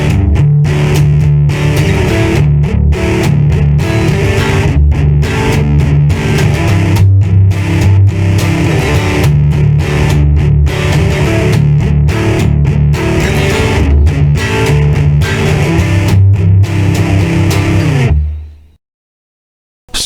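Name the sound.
electric guitar with heavy distortion, Zoom G1 Four pedal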